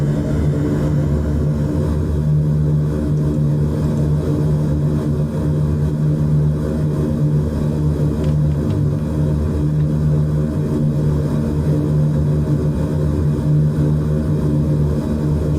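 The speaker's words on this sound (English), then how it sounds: "Let me just get that noise turned down, because it will grate on you for a long time. Aircraft engines, I think that is." The propeller engines of an RAF Airbus A400M in Microsoft Flight Simulator 2020 drone loudly and steadily during the climb, a constant heavy hum with a strong low tone and no talk.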